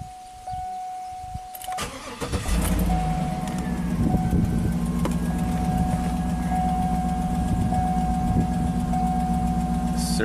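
A Cadillac Escalade with an electrical network fault cranks and fires up, the starter churning briefly before the engine catches and settles into a steady, close idle; a thin electronic tone sounds beforehand.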